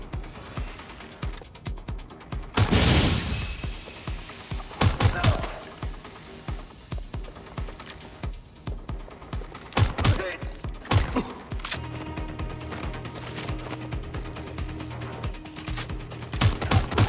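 Gunfire in the video game Watch Dogs: Legion, with bursts of shots and impacts, one loud volley near the start and scattered cracks later, over a steady mechanical backdrop and brief voice in the mix.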